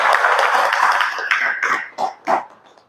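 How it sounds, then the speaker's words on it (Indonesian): Audience applause for a speaker at a New Year moral talk: a steady round of clapping that thins out after about a second, followed by a few scattered sounds as the room settles. "Ya, boleh beri tepuk tangan untuk Su."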